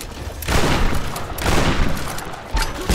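Grenade blasts and bursts of gunfire in the 2013 Tomb Raider video game, a chaotic run of loud booms and rattling shots that swell and fade across the moment, with no talking.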